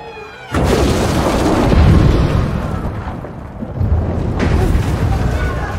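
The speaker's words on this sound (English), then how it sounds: "Oh, explosion." A deep, heavy explosion bursts in suddenly and rumbles on, followed by a second loud blast-like roar, sustained and booming.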